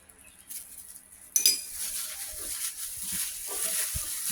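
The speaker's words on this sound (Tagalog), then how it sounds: "Haluin lang natin itong maigi hanggang sa lumapot" A utensil stirs sugar and salt into a homemade tocino mixture in a bowl, with a clink at the start followed by soft, uneven scraping and mixing sounds, close and fairly quiet.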